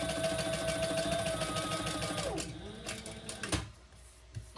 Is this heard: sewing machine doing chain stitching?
yes